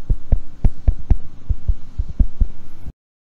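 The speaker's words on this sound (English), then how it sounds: "if I tap the base just a little bit, whether that is translating into sounds in the microphone" Repeated taps on the base of a small tripod holding a Neewer CM14 microphone, a series of dull low thumps in an irregular rhythm, close and fairly loud, with no talking.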